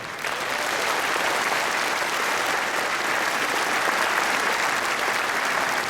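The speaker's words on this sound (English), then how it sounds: "a round of big applause" A large convention-hall audience applauds at the opening ceremony of the 93rd Lions Clubs International Convention in Sydney, a dense, sustained roar of clapping that holds evenly from start to finish.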